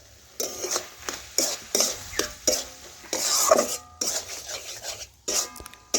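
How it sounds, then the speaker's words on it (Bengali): Moong dal stir-fried with spices in a pan for a couple of minutes, a utensil scraping and rasping against the metal in repeated irregular strokes, close and fairly loud, with no voices. "এইভাবে আমি দুই থেকে তিন মিনিট দেখুন কষে রান্না করে নিচ্ছি"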